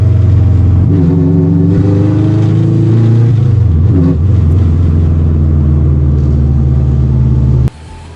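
Car with its old exhaust cruising at around 2,000 RPM: a loud, close engine drone with a low exhaust rumble, its pitch rising and falling slightly with the throttle, cut off sharply near the end.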